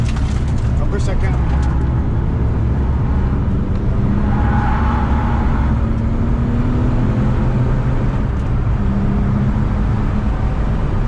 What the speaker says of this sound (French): on va essayer de faire 2-3 tours pour s'habituer à l'auto